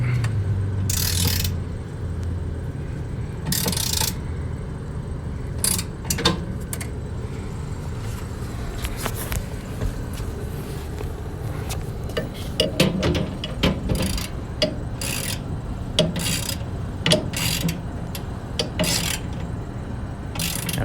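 A ratchet wrench tightens a bolt during the replacement of a faulty inducer motor on a Rheem unit, with repeated close clicking bursts in uneven runs and some pauses between them.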